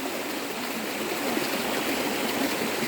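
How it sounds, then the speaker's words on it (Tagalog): Natural spring water from an underground mountain source flowing steadily, a continuous bright rushing and splashing, close and unbroken. "Ito yung mga tubig galing sa natural source of water."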